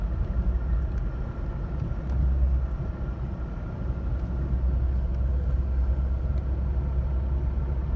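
Jeep Cherokee XJ cruising on cruise control with feet off the pedals, a steady low engine and road rumble heard from inside the cabin, continuous and even throughout.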